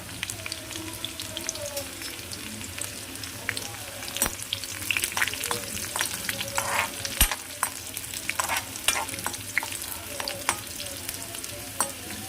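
Dried red chillies sizzle in hot oil alongside sliced small onions for Kerala-style parippu curry, a soft continuous crackle broken by stirring clinks and scrapes.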